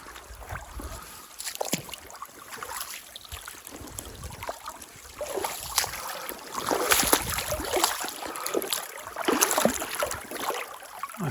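A creek flows steadily off-trail in the Uwharrie mountains, a close, continuous wash of rushing and trickling water that swells a little toward the end, with no voices.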